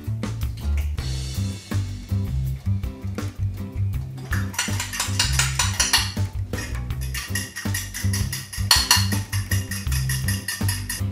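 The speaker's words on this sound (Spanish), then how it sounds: "lo que voy a hacer es batir la clara de huevo" Egg white is beaten in a bowl for oven-toasted almonds, with a busy, continuous clatter of a utensil rattling against the bowl that grows brighter and more vigorous in bursts, close and fairly loud with no speech.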